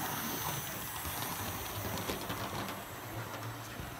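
A Hornby Centenary Smokey Joe model locomotive runs fast around its track with a continuous whirring rattle and light rhythmic clicks, close and steady, with no talking.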